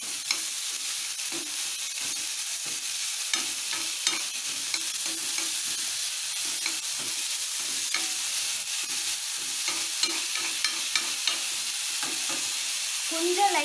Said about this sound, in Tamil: வெங்காயம் எல்லாமே சேர்த்துட்டு நல்லா வதக்கிக்கோங்க.